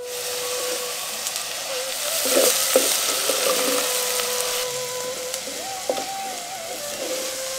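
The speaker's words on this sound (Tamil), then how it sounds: "200 கிராம் நறுக்கின பெரிய வெங்காயத்தை சேர்த்து நல்லா வதக்க ஆரம்பிச்சிருவோம்" Chopped onions sizzle steadily in hot oil, a constant crackling hiss broken by occasional scrapes of stirring.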